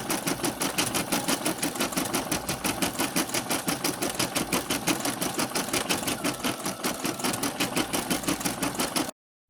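A sewing machine that keeps jamming runs steadily with a fast, even mechanical clatter, loud and close, with no voices.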